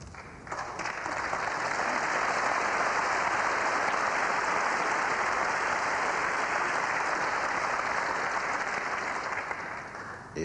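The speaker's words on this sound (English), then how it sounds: "applause for a delightful 4-cushion escape" A snooker crowd at the 1987 UK Championship semi-final between Jimmy White and Joe Johnson applauds a four-cushion escape, sustained even clapping that swells and holds for about ten seconds with no talk over it.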